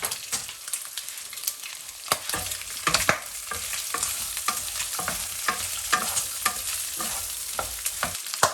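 Spring onions, ginger, star anise, dry chilies and Sichuan pepper fry in a pan with a steady close sizzle, broken by repeated stirring clicks and scrapes, with no speech.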